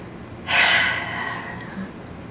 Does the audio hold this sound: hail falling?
no